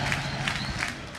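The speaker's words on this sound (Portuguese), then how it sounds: "E aplausos" A large crowd claps and cheers, a brief dense roar of applause with voices mixed in.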